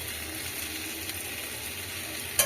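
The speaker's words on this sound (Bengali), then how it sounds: "পেঁয়াজটা ভাজা হবে" Onion frying in a pan of oil after potatoes, a steady bright sizzle throughout with a brief clatter at the end.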